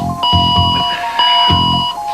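Hospital ICU monitor alarm ringing in steady repeated high electronic tones, with a low rhythmic pulsing underneath, loud and close.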